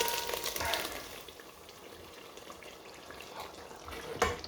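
Ingredients frying in a pan for a Polish home-cooked dish, a steady close sizzle with crackling and a few louder spits and pops, no talk over it.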